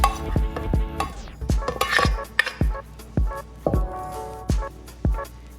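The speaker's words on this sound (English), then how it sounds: "So let's go ahead and put our rice in the baking dish." Cooked rice is spooned into a baking dish for a seafood sushi bake, with a utensil striking the dish in a series of sharp clinks and taps at an irregular rhythm, close and clear.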